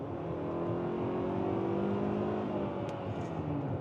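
A Hyundai Tucson XRT AWD SUV under full throttle, its engine note rising steadily from inside the cabin, a smooth, moderate drone with gradually climbing pitch and no talking.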